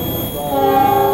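The Argo Wilis passenger train, hauling a luxury panoramic car, passes close by with a loud, sustained horn blast over the rumble of rolling wheels.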